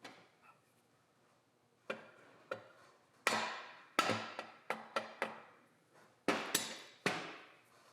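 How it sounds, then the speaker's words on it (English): Sharp metallic taps driving a shaft into a Roxor transfer case during a rebuild, arriving as a sparse, uneven run of close, crisp knocks, a few single and some in quick pairs, with quiet gaps between. "Be sure retainer cutout is properly aligned before tapping the shaft all the way in."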